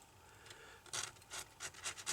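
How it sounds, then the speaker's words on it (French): A utility knife scrapes glue off an iPad 2 frame in about five short, quiet rasping strokes that come quicker toward the end, with no voices. "on prend son cutter et on frotte et on enlève. Et on enlève toute la colle"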